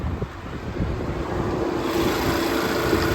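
A steady low engine hum idling evenly throughout, with no voices over it.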